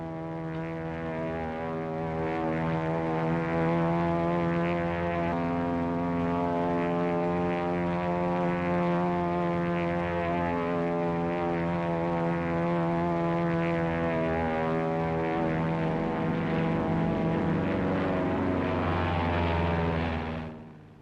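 Steady, loud propeller drone of a P-40 fighter plane flying overhead, a sustained harmonic engine hum that holds for about twenty seconds before cutting off, with no talk.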